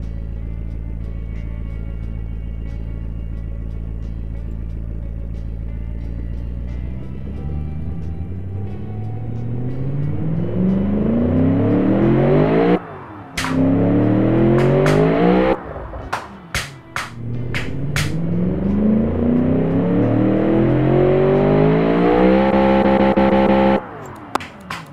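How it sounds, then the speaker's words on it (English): A Ford XW GTHO engine in BeamNG Drive idles low, then revs up repeatedly in long rising sweeps with sharp cut-offs between pulls, loud and close throughout. "we never actually gave this engine a quick listen"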